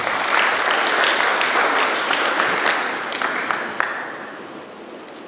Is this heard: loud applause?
yes